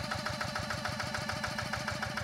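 A Yanmar TF 70 tractor engine runs steadily while ploughing a deep, muddy rice field, its close, continuous chugging throbbing in a fast, even rhythm with no voices over it.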